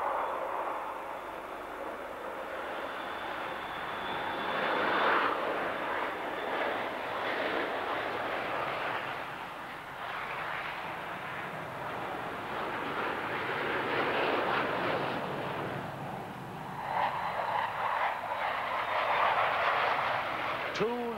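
Two Blackburn Buccaneer jets of the RAF pass overhead in a steady, loud roar that swells and fades as they fly by, with a faint whine running through and a voice talking over the engine noise.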